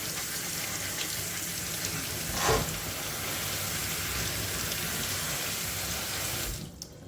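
Warm water sprays steadily to rinse fermented cucumber seeds, a loud, close, continuous hiss like a running faucet that cuts off abruptly near the end.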